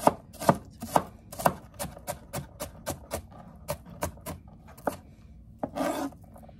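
A knife chops through sweet onion on a cutting board in quick, close, regular strokes, a dozen or so sharp thuds in a steady rhythm, ending with a brief scraping sweep.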